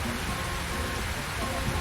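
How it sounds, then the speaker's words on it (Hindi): Steady rain falls along a road, a dense, even hiss of drops at constant moderate loudness with no pauses and no voices. "रास्ते में बारिश आ जाती है"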